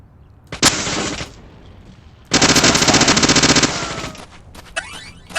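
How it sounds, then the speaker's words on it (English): Machine gun fire in the video game Deadly Premonition, two loud rapid bursts, a short one and then a longer sustained one, followed by fainter clatter. "Well, machine gun, let's go."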